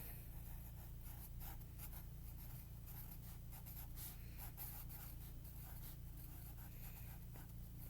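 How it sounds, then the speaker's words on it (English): A pen scratches steadily across paper while notes are jotted down, a continuous soft scribbling with small strokes and taps, sitting close and quiet over a constant low hum. "I'm just going to write that down."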